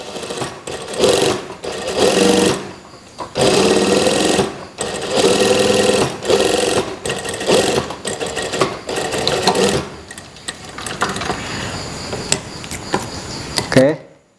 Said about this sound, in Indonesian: Saya jahit agak besar saja ya biar memudahkan.